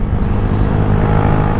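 A Yamaha R125 motorcycle's 125cc engine pulls uphill with the throttle wide open, a loud, steady, close-up drone with a low rumbling exhaust note, blended with wind noise and no talking.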